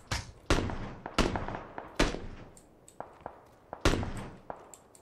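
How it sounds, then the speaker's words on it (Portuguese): Sharp gunshots crack in an irregular rapid series in the video game Battlegrounds, some loud and close from around a church, others fainter, each with a short echoing tail. "tem muito tiro na igreja"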